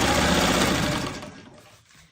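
A sewing machine stitching quilt block fabric hums in a steady, fast mechanical whir close by, then slows and fades as it stops.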